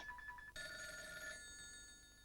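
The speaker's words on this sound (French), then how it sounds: "Téléphone!" A telephone rings out loud and close, one sustained bell-like ring with a bright tonal buzz that starts abruptly and then fades slightly, with no talking over it.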